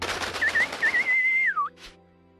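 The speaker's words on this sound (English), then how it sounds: "Distressed bird noises." A distressed bird cries out in the video game Valkyria Chronicles 2 with a thin, whistle-like warbling call that rises, holds, then bends downward. It plays over soft game background sound, ending in a brief faint chirp.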